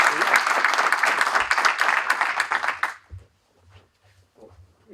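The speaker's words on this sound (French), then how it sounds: "je remercie donc l'ensemble des intervenants que je vous propose d'applaudir" Audience applause for the speakers at an ESTP Paris student conference on residential projects, dense steady clapping for about three seconds that stops abruptly, followed by quiet room sounds.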